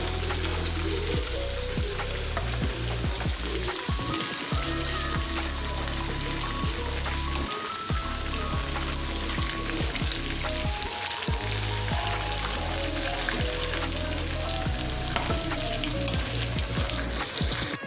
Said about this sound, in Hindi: इस गर्म ऑयल में हम ये पेस्ट डालेंगे